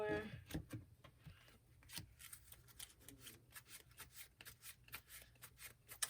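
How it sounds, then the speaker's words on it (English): Shuffling of a deck of playing cards during a solo tabletop card game, a quiet run of soft riffling and rubbing strokes repeating in quick bursts with no talk over it. "I'm already shuffling"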